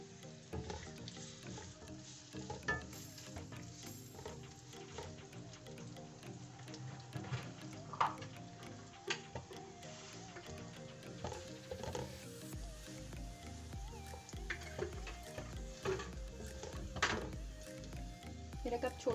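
Onions fry in about a cup of oil for chicken nihari, a steady close sizzle with occasional stirring scrapes and light crackles.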